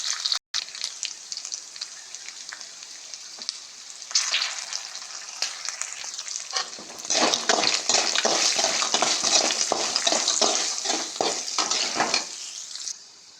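Green chillies and turmeric frying in hot oil for lemon rice, a close, loud crackling sizzle that swells in the second half with rapid popping, then dies away.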